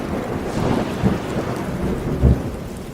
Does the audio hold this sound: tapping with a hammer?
no